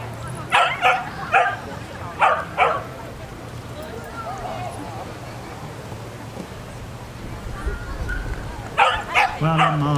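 Small dog yapping at a country fair dog display, a few sharp barks in quick bursts at the start and again near the end, with crowd murmur and a low hum between.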